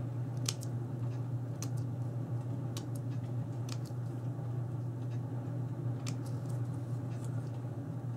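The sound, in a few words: scissors snipping black paper into fringe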